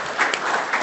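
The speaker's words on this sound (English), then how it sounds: "So a round of applause for them." A brief burst of applause from a crowd, many hands clapping together.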